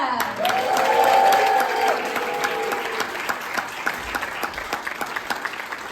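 An audience at a comedy show breaks into loud, sustained applause with a few cheers and whoops as a comedian is introduced, dense clapping filling the room and slowly thinning toward the end.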